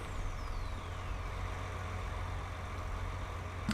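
A truck engine in Farming Simulator 19 drones steadily at a low, even pitch throughout, with a brief sharper hiss right at the end.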